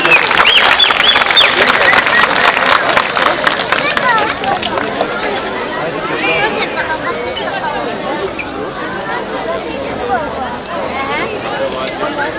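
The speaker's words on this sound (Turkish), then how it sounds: "Etili Seramik Türk Halk Dansları topluluğunu alkışlarınızla sahneye davet ediyorum" Audience at a spring concert by a ceramics company's folk music group bursts into loud applause with cheering and crowd chatter, the clapping thinning into murmuring hubbub over several seconds.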